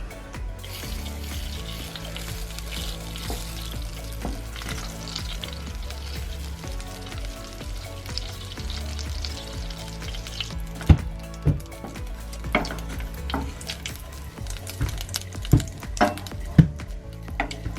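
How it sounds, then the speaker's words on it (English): Three tablespoons of butter melting and sizzling in a pan on the stove, a steady frying hiss with small pops and drips, later turning brown for homemade ice cream. "I have 3 tablespoons of butter in here that is going to be melting"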